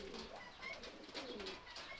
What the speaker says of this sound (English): We've got some baby pigeons.